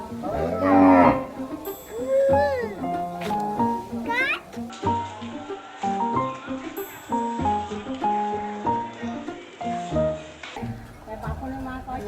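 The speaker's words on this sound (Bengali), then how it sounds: "ছোট ছোট গরু, বাছুর আই থিঙ্ক।" Small cows and calves moo repeatedly at a cow shelter, several long nasal calls overlapping one another in the near distance, with people talking and a voice mixed in.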